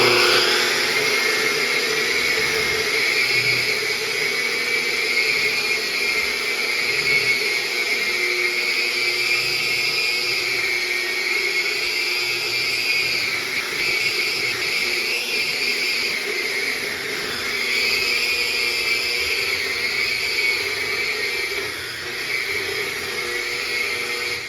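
VEVOR 900W electric drywall sander with 240 grit disc grinding over a wall, a continuous loud motor hum with a whirring abrasive rasp that wavers slightly in pitch as it moves, no voices.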